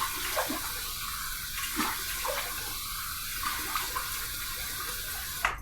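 A bathroom tap runs steadily for wetting the face before a shave, a constant close hiss of flowing water with faint splashes as hands dip under the stream, and no one speaks.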